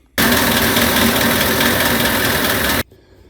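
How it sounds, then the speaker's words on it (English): A blower engine with a big suction head, due for a carburetor fix, runs at a loud, steady idle that starts and stops abruptly with a constant broadband roar in between. "so here's the blower"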